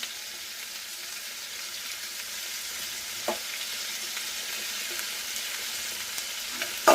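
Coconut is stirred into a dish frying in a pan, giving a steady close sizzle under scraping stirs, with a few louder clacks from the spoon striking the pan.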